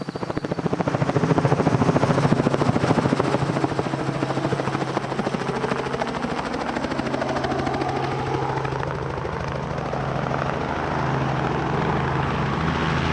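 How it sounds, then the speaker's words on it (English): A sightseeing tour helicopter's rotor thumps in a rapid, steady chop over a loud engine whine, heard from inside, close and continuous throughout, with the pitch drifting slightly. "I'm riding a helicopter, going for a helicopter sightseeing tour, basically."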